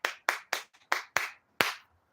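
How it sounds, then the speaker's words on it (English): Seven sharp, separate hand claps in a slightly uneven rhythm, close and crisp with short pauses between them, the sixth followed by a longer gap before the last. "Hand claps."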